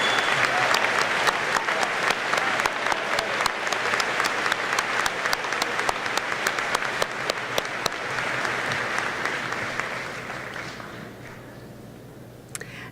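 Graduation-ceremony guests at a Seaholm High School event clap for the graduates' parents in a long, steady, loud round of applause from a large crowd, which slowly thins and fades toward the end.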